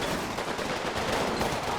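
Dense gunfire rattles in the World War II strategy game Combat Mission Final Blitzkrieg, a continuous overlapping barrage of rifle and machine-gun shots with no pauses, moderately loud and steady.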